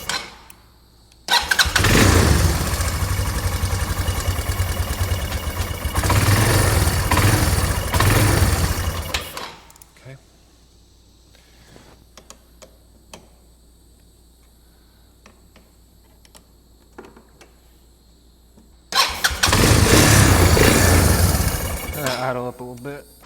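A broken four-wheeler ATV engine runs loud for several seconds, then cuts to a quiet low idle, then revs loudly again near the end. Near the start a voice is heard.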